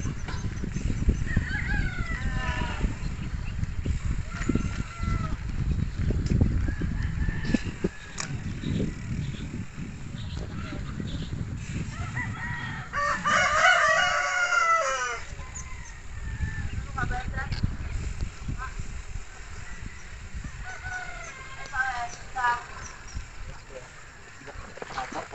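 Chickens cluck and cackle repeatedly in a rural spot near Mt. Arayat, with scattered bird calls rising above a low rumble of wind and movement, while several people chat nearby.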